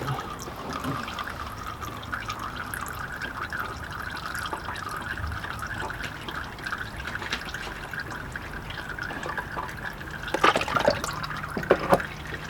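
Motor oil drains into a cheap plastic drain pan as a soft, continuous trickle, with a few sharper clinks and knocks near the end.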